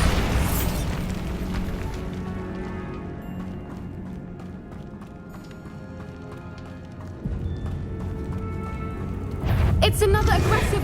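A Bombarda blasting spell goes off in Hogwarts Legacy as a loud, dense rumble of game combat. Heavy booms, clatter and a sharp burst near the end sit over music and voices.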